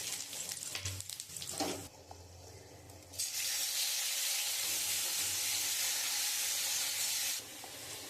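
Cumin, bay leaf and whole garam masala drop into hot oil in a kadai, giving a short crackle and then a loud, steady sizzling hiss that lasts several seconds before easing off.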